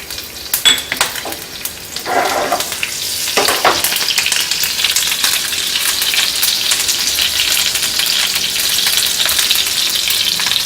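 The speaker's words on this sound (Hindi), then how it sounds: "पैन हमारा गर्म हो गया है, हम ऑयल डाल देते हैं। जीरा और हरी मिर्च," Cumin and green chillies fry in hot oil in a pan with a loud, close, continuous sizzle and crackle, with a few scraping stirs early on and then a steady hiss, and no talk.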